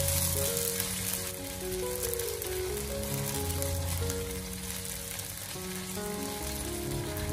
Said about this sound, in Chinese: 再把切好的姜葱给它放进锅中，开小火给它翻炒一小会